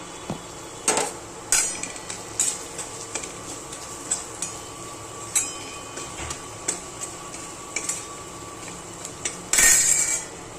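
Mutton masala and coriander powder being stirred in a pot for a village-style matki usal, with scattered metallic clinks and scrapes of the spoon against the pot, fairly close, and a louder clatter near the end; no talking.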